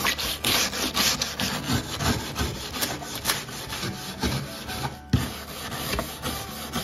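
A bronze brush scrubs wooden furniture in quick back-and-forth strokes, a dense close rasping that runs steadily with a sharp accent near the end.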